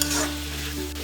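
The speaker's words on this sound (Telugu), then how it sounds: "టమాటా బాగా వేయించుకోవాలి." Tomatoes fry in a pan with a steady, close sizzle and a stir at the very start, brief and continuous with no voices.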